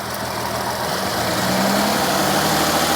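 Cadillac SRX4 engine with a hesitation and power-loss fault, running steadily with a low, even idle-like hum that rises slightly in level partway through, heard close and alone without talk.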